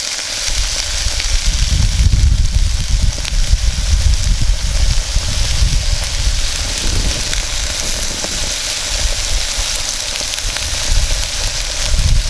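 Drained canned corn frying in a pan for fried ham, giving a steady, loud sizzling hiss with faint crackle that carries on throughout without talk.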